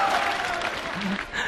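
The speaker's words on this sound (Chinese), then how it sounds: "来，掌声欢迎" Studio audience applause welcoming a dancer onto a stage at a live show: a brief, dense burst of clapping with voices mixed in.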